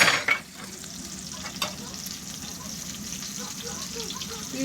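Large fish sizzle and spit as they fry in a pan for Turkish fish sandwiches. A steady close crackle runs the whole time, with a few louder stirring clatters near the start and faint voices in the background.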